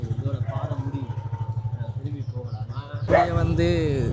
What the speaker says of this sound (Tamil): நாய் வர கத்தி கொண்டிருக்கு பாருங்க.